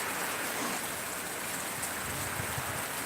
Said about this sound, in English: we're getting some beautiful rain